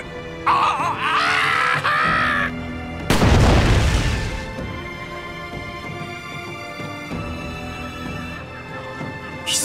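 A single heavy boom from Nobunaga's personal matchlock gun in Samurai Warriors 4, at the Battle of Nagashino, loud and close, with a long rumbling tail over an ongoing game soundtrack.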